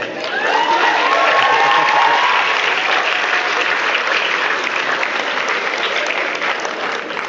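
A crowd applauds its leaders at a leadership talk, loud dense clapping sustained evenly from start to finish with some cheering and shouting mixed in.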